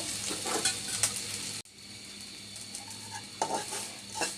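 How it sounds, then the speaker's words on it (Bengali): Grated coconut fries in a little hot oil in a pan, a steady broadband sizzle with a few utensil scrapes and stirs, briefly cut off and then continuing more quietly, close and without speech. "আমি অল্প নারকেলকে আমি তেলের মধ্যে একটু ভেজে নিব"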